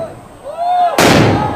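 New Year firecrackers go off at noon in Dagupan: a rising whistle, then a sudden loud burst of dense crackling explosions.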